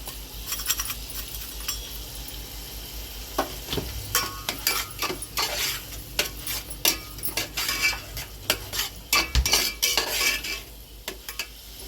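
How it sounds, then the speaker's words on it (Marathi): Cardamom-spiced modak filling being stirred in a pan, a spoon scraping and clinking against the metal in steady, close strokes with a faint sizzle underneath. "अधूनमधून असं हलवत राहायचं"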